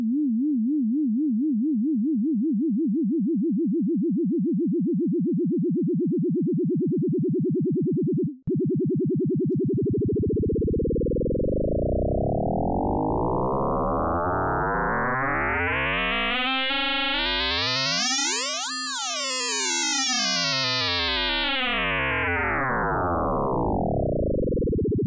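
An FM synth tone from Ableton Operator wobbles under sine-wave pitch modulation, first a slow vibrato, then after a brief cut the modulation speeds up into a bright, harmonically rich metallic sweep that rises and falls, continuous and loud.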